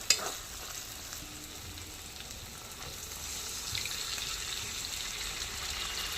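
Lote fish frying in a spiced masala gives a steady, soft sizzle that runs without a break, with a faint stir near the start and no voices.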